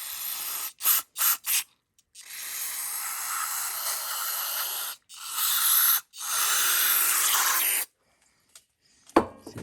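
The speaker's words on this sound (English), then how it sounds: "Alright, so I got some carb cleaner here. Blow out everything here." Carburetor cleaner sprayed through the carburetor of an old Honda lawn tractor: several short hissing bursts, then long steady close aerosol blasts with brief pauses, ending in faint clicks and handling noise.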